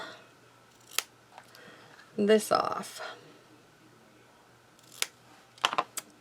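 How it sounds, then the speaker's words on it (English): A few quick crisp snips of scissors trimming ribbon, with a louder cluster of cutting and rustling in the middle, under occasional soft speech. "we're going to get my ribbon scissors, which are right here, and we're going to trim"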